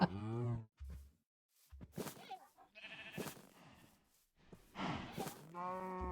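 Cow moos from a video game, with a couple of drawn-out harmonic calls near the start and end. A player's voice talks excitedly in between.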